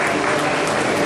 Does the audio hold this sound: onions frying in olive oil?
no